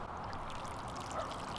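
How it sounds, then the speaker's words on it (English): Water pours steadily from a watering can or hose onto soil around a freshly transplanted vegetable plant in a garden, a short continuous splashing trickle close by. "We need to water it in immediately."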